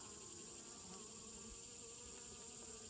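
Honey bees at a farm hive make a steady, faint, continuous buzz throughout, with no other sounds over it.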